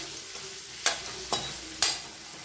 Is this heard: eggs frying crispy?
yes